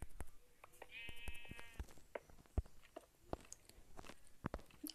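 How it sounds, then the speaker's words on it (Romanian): A sheep in the video game Minicraft bleats once, a short wavering cry near the start, amid scattered soft clicks and crunchy chewing-like taps that continue throughout at low volume. "Oile alea nu mai ies."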